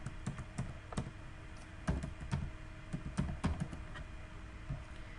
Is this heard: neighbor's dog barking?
no